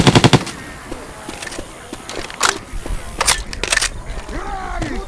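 Bursts of automatic gunfire in Left 4 Dead 2 on the modded Parish map, rapid rattling volleys at the start and again midway, mixed with clicks and game effects.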